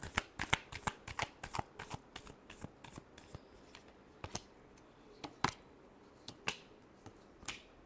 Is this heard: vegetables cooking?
no